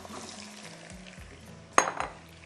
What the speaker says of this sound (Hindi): तो मैं पहले इसमें ये प्रॉन्स डाल रही हूँ।